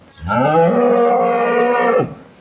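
A Holstein Friesian dairy cow gives one loud, close, drawn-out moo lasting about two seconds, rising at the start and cutting off cleanly, with no talking over it.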